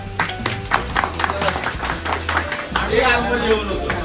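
A group of trekkers in a remote village near Tamhini Ghat claps together after a meal, a quick run of sharp claps then a looser patter of applause, with voices chatting over it.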